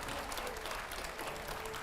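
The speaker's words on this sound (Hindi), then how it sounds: "जोरदार तालियां हो जाए" An audience applauds at a public event with steady, fairly faint clapping that stays even throughout the short stretch.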